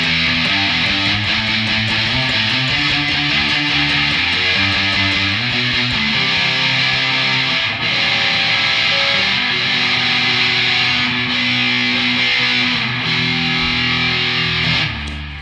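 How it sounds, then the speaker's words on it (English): An electric guitar runs through a Walrus Audio Jupiter fuzz pedal, a loud, thick, saturated buzzing tone playing chords and riffs steadily for the whole stretch with no talking. "Next in the chain is the Walrus Audio Jupiter. It's a fuzz pedal and it sounds like this."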